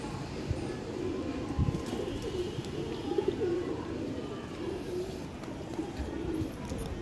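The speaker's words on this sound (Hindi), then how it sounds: "ये आपको पूरा कबूतर दिखा रहा हूँ मैं।" A pigeon coos softly and repeatedly close by, low throaty calls rolling on over steady background hum, with faint chirps now and then.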